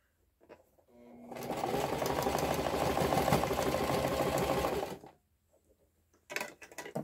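A sewing machine runs for about four seconds, loud and close, stitching a Christmas purse. Short handling clatter comes before and after the run.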